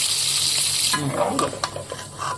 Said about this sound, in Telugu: కొంచెం రెడ్ కలర్ వచ్చేంత వరకు కొంచెం ఫ్రై చేసుకుందాము.